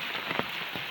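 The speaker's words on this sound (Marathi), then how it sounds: "जोरदार पाऊस पडतोय" Heavy rain pours down in the Konkan coastal countryside, a dense, steady hiss of drops striking surfaces, briefly heard on its own.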